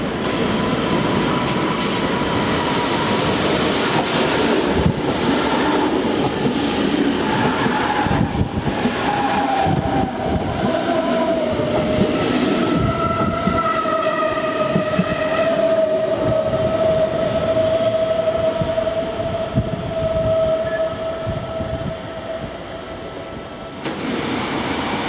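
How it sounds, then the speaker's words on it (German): Munich S-Bahn S4 train pulling into the underground Hackerbrücke platform, a loud, continuous rumble of wheels and rails with rising and falling brake squeals and tonal whines, fading slightly near the end. "Auf Gleis 2 fährt ein S4 nach Geldenberg."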